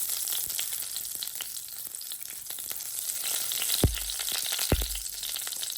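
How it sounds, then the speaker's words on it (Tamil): Mustard seeds, fenugreek and cumin sizzle in hot oil for tempering: steady crackling and sizzling, with sharp pops now and then and a couple of louder clinks near the end. "இப்போ நாங்கள் தாளிக்கிறதுக்குரியது வெந்தயம், சின்ன சீரகம்,"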